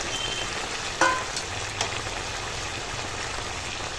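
Powdered spices (chilli, Kashmiri chilli, cumin and black pepper with salt) fry in a pan with a steady close sizzle, broken by a sharp clink near the start and a softer one a little later.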